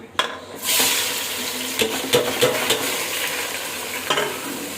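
Green chillies and onions hit hot oil, bursting into a loud sudden sizzle that settles into a sustained frying crackle, punctuated by a few spoon or pan knocks.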